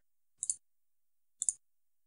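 Two crisp computer mouse clicks, each a quick double tick, sound about a second apart, close and isolated against silence.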